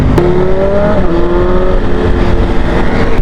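A 2025 BMW S1000RR M Sport motorcycle engine runs steadily at close range, a loud continuous droning hum with a shifting tonal whine and no voices.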